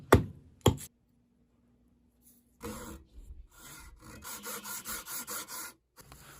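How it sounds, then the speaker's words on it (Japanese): Green, not fully dried wood being shaved down in thickness for a camping hand axe sheath: a couple of sharp knocks, a pause, then a run of regular rasping strokes, close and fairly loud. "作業しやすいように厚みを削っています。"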